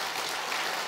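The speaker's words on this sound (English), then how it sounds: "give God a better clap than you're doing right now" Church congregation clapping during a worship service, a brief, dense wash of many hands at steady volume.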